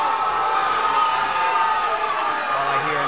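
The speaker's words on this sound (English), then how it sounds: "The crowd is going crazy." A fight crowd roaring and cheering wildly in an arena, a dense continuous wall of voices at steady loudness from start to end.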